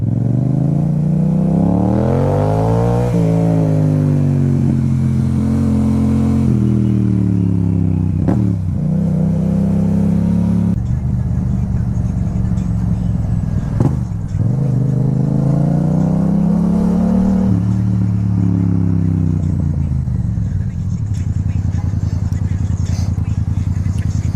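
A motorcycle engine runs loud and close, its pitch rising and falling through repeated revs with a rumbling exhaust throughout.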